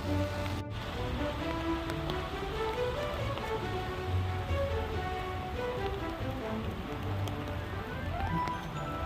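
Steady rain falls across a cherry blossom viewing spot in Jinhae, a continuous hiss and patter spread evenly through the whole stretch with a low background hum and no distinct voices.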